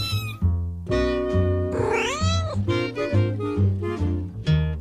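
A cat meows repeatedly, a series of loud, close, drawn-out calls with rising and falling pitch, one long wailing cry in the middle and shorter meows around it, with no talking.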